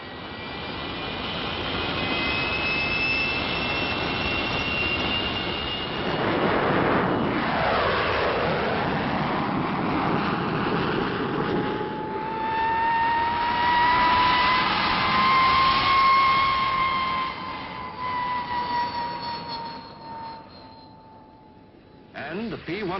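Gloster Meteor jet fighter flying past, a loud rushing jet roar with whining tones that rises, sweeps past and fades, while a voice narrates over it.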